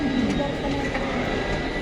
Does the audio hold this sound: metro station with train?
yes